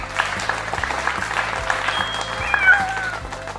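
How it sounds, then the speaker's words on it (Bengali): Loud group clapping in unison from a Bangla cartoon episode, a dense steady wash of applause with thin squealing tones rising over it partway through. "সবাই একসাথে জোরে হাততালি দে"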